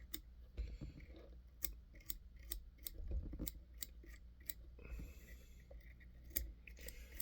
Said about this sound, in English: Come back with the finer scissors.